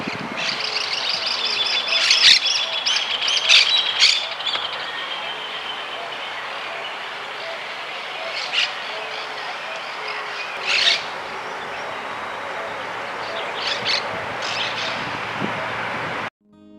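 A picui ground dove, the small common Argentine dove, gives a soft repeated coo in open countryside, the calls faint and spaced against a steady hiss of other birds and insects.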